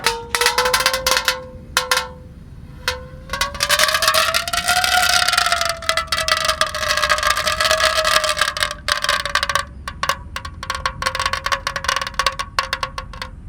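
Mercon firecrackers lit inside a plastic water gallon let out a loud, wavering whistle-like shriek mixed with dense crackling pops, continuing for several seconds before breaking into scattered sharp cracks.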